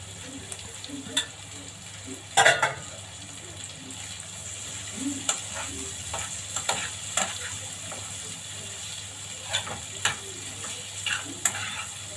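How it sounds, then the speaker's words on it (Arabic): Liver and gizzards sizzle in ghee with garlic in a home kitchen pan while a spoon stirs them, giving a steady low fry broken by light scraping knocks. "هقلب فيهم شويه ايه لغايه ما يحمروا كده شويه، يشربوا من السمنه والثوم"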